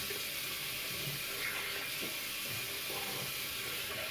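Hot water runs steadily from a bathroom tap while a Merkur Progress adjustable double-edge safety razor shave is being prepared, a continuous close, even hiss of flowing water with no voices.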